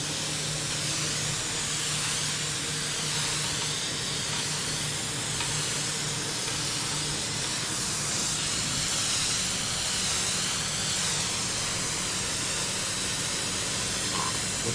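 Spray gun applying Kaiser Silver paint to a Honda Civic hatch in a spraying area, a steady broad hiss running loud and unbroken throughout, no voices.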